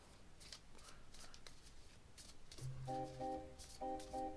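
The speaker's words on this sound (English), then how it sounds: "he's going to shuffle it up" A small hand of about twelve playing cards is shuffled during a Similo tabletop game, giving quick papery riffles and flicks. Short musical notes come in near the end.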